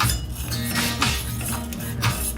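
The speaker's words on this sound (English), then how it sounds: "And keep on stirring so it mixes well with the milk." A spoon stirring turmeric into milk in a pan on a medium flame, steady clinking and scraping against the metal over a low hum of the stove, close and continuous.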